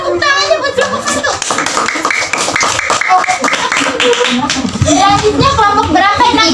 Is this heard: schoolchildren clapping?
yes